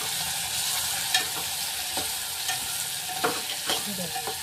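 Okra curry with turmeric and cumin sizzles in a pan, a steady frying hiss broken by several sharp scraping stirs of a spoon, close and without talk.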